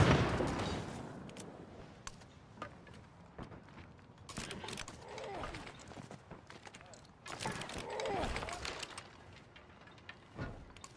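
Mortar fire in the strategy game Civilization VII: a run of sharp, booming impacts and bursts scattered across the stretch, some clustered, heard at moderate level with game ambience between.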